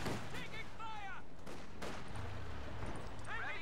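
Mortar fire in a World War II real-time strategy game, with a heavy report rising over dense battlefield ambience and commentary voices speaking throughout.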